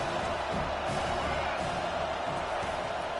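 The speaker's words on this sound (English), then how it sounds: "Man, this crowd really affecting the football game." A home crowd at a college football game sends up a steady, dense roar of cheering and whoops from a distance, unbroken for a few seconds.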